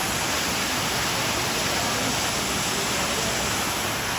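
Walters Falls in Ontario roars as a loud, dense, unbroken rush of falling water over rocks, heard close up and steady throughout with no talking.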